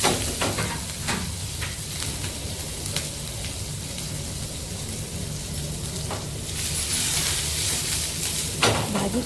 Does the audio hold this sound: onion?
yes